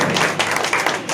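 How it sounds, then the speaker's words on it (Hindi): Audience clapping at an award ceremony honouring certificate recipients, a dense wash of many hands at steady loudness for about a second. "जोरदार ताली बजा रहे"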